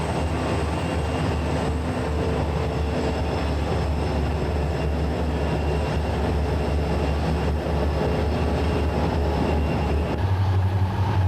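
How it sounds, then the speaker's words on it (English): A freight train hauled by five diesel locomotives, an SD35, two SD40s and two SD45s, rumbles past close by with a loud, constant engine drone and rolling rail noise, and no speech. "Five units consisting of an SD35, 2 SD40s, and 2 SD45s rumble a freight into the hull."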